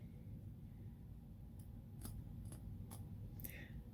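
Small hand clippers snipping while trimming, five faint crisp snips spaced about half a second apart over a steady low background hum.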